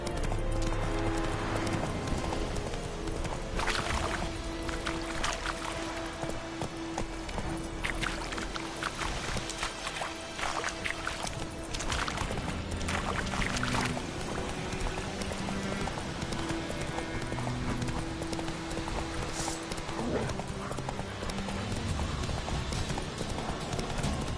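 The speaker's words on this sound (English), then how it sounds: "Run, Roach" Hooves clip-clop rhythmically as the horse Roach gallops in The Witcher 3, a steady running beat throughout with game ambience and occasional faint movement sounds.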